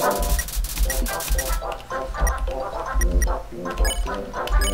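Excited dog barks and yips from the Undertale video game, a rapid run of short bright sound-effect barks over steady game music, with no talking.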